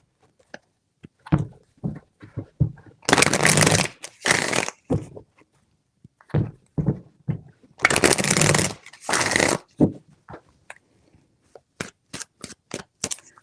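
Tarot cards being shuffled in three separate bursts, each a dense riffling rustle lasting about a second, with a few sharp taps and handling clicks in between and several quick snaps at the end; no talking.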